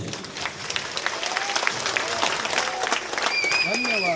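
Audience clapping at an Odia jatra folk theatre performance, a crisp burst of applause that builds and persists, with a voice speaking over it and tonal sounds rising near the end.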